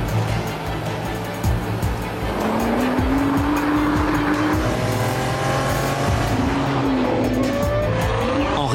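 Nissan GT-R supercar, 1700 kg, accelerating hard with a loud rising engine tone through several gear changes, tires squealing over steady road roar.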